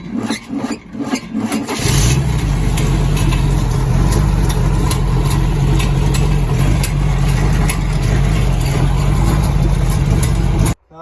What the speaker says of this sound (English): Now I got the motor running, I'll put the drive shaft on.